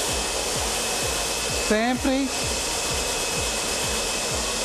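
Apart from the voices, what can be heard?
hair dryer blowing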